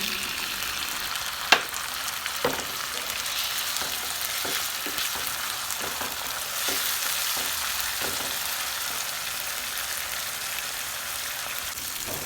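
Spice paste for chicken curry frying in a pan, a steady quiet sizzle with occasional soft taps and stirring clicks, close and without talk.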